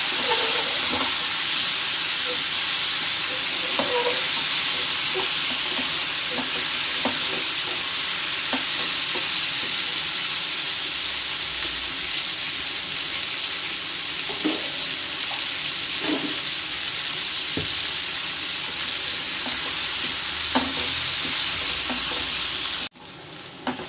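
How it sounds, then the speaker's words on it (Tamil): Moringa drumstick pods sauté in a pan for a Tamil kootu, with a loud, continuous sizzle and hiss under occasional soft scrapes and taps of a stirring spoon, ending abruptly. "முருங்கைக்காய் இந்த அளவுக்கு வதங்கிக்கிட்டு இருக்கு"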